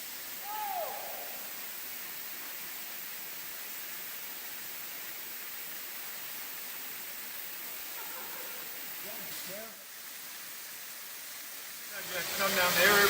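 Water pouring down into the Lomond Sinkhole in Newfoundland, a steady broadband roar of falling water throughout, with a brief louder rustle near the end.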